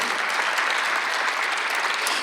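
A Sunday worship congregation claps together in a steady, even burst of applause filling the sanctuary, with no voices standing out.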